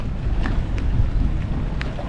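A tour boat motor runs as the boat pulls away from the dock at Split on the Adriatic Sea, a steady low rumble under gusty wind buffeting the microphone.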